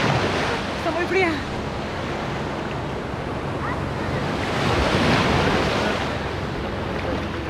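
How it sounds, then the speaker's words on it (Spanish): Waves wash onto the calm beach at Caleta de Campos, Michoacán, a continuous rolling surf with heavy wind buffeting the microphone and a faint voice briefly heard near the start. "de la playa Caleta de Campos, que en estos días se encuentra muy tranquila"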